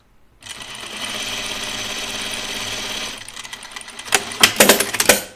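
A sewing machine stitches a seam on a uniform tunic, running in a steady continuous whir for about three seconds, then stopping into a few sharp clicks and clatters of fabric handling up close.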